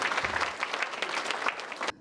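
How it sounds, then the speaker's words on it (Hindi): Audience applause after a play at a school annual day celebration, a lively burst of many hands clapping at close range, fairly loud and sustained before cutting off abruptly. "इसी के साथ इनके प्रस्तुति के लिए जोरदार तालियां तो बनती हैं।"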